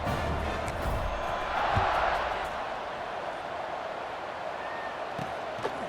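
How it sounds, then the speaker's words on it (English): Stadium crowd at a North Carolina Tar Heels vs Syracuse Orange college football game in College Football 26, a steady broad roar from many voices that swells slightly near the two-second mark, with a commentator's voice faintly over it. "this crowd is buzzing after that last score"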